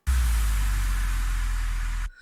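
A loud electronic impact effect lands at the end of a progressive house drop: a dense, sustained burst of deep low-end rumble and broad noise holding steady for about two seconds, then cutting off abruptly.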